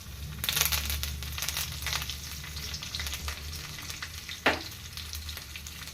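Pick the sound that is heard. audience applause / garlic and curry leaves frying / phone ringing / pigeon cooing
garlic and curry leaves frying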